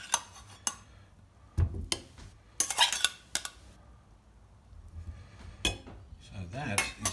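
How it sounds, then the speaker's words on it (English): Honeyed carrots stirred in a bowl with a spoon, giving a few sharp clinks and scrapes against the bowl spread over several seconds, fairly close, with quiet gaps between them. "I'm just stirring the bowl."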